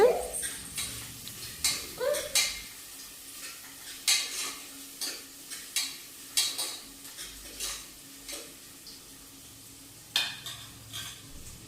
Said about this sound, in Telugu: ఇంక ఇప్పుడైతే ఉల్లిగడ్డలు వేసుకున్నాం కదా ఒకసారి అయితే కలుపుకుంటున్నా